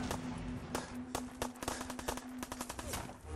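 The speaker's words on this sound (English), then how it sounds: "So much gunfire." Rapid automatic gunfire in the Fallout 4 video game on PC, bursts of sharp shots in quick succession over a steady tonal drone, loud and close.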